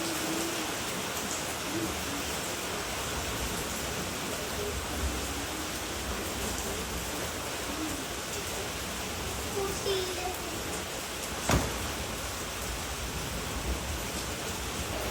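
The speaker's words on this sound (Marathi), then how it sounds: "पावसाचं जोरदार पाऊस चालू झाला आता" Heavy rain pours down in a steady, dense broadband wash that stays loud and constant throughout, with a brief sharper knock near the end.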